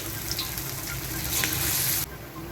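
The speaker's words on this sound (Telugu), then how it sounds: "ఇలా ఇలా ఫ్రై చేసుకోవటమేనండి." Batter-dipped idli pieces fry in hot oil for idli Manchurian, giving a continuous dense sizzle and crackle at close range that swells briefly, then drops slightly quieter near the end.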